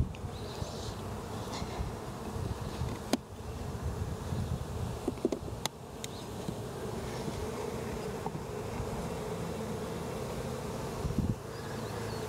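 A dense, steady buzz of many honeybees swarming around an open hive during a spring inspection, close and continuous, with a few light knocks and outdoor breeze behind it.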